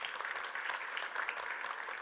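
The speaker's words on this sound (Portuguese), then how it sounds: "Uma salva de palmas" Audience applause at a health technology innovation forum in Portugal, a continuous, even patter of many hands clapping that fills the whole short stretch at moderate volume.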